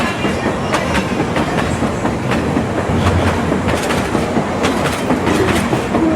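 Konkan Kanya Express train at Panvel station, a steady loud rumble of rail cars with rhythmic clickety-clack wheel beats running throughout, no voices.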